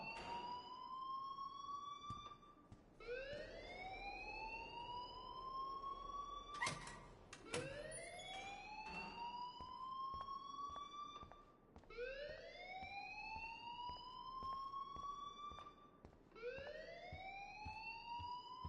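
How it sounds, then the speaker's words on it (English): A school alarm in the Life is Strange video game repeats rising, wailing siren sweeps about every four seconds, steady and alone at low volume. "please turn off that alarm since that's your job"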